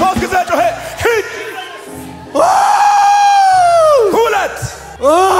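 A church congregation shouts loudly in a sustained, strained mass cry lasting a couple of seconds, set between bursts of energetic preaching and crowd noise.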